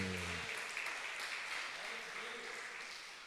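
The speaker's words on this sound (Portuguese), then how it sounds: "Dê uma salva de palmas bem forte para Jesus" Congregation at a Brazilian evangelical church service clapping for Jesus, a steady wash of many hands filling the room, with a brief voice at the very start before the applause carries on alone.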